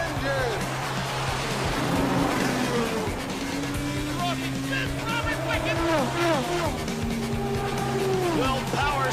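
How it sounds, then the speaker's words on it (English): IndyCar race cars at the Indianapolis 500 fire up and race, with engines rising and falling in pitch as cars pass, under loud excited commentary and crowd noise. "Drivers, start your engine!"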